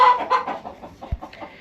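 A laying hen in a backyard flock gives a quick run of close, loud clucks, uneven in rhythm, with a short squawk near the end.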